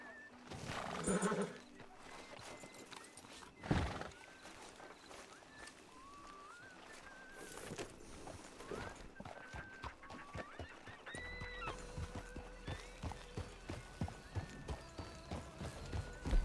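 Horse hooves clip-clop in a roleplay video game, a steady, faint rhythm that grows more regular toward the end, with a brief neigh early on, amid game ambience and a few scattered sounds.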